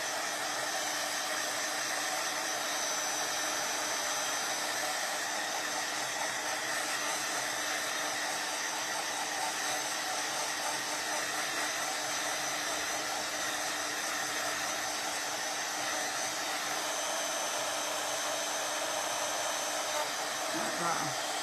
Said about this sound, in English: I'm sorry you spent all night listening to this. Listening to the dryer go.